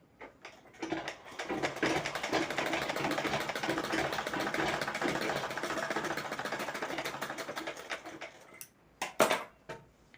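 A sewing machine stitches a lined blouse in a rapid, continuous mechanical whir lasting several seconds, then slows and stops, followed by a few clacks and handling knocks.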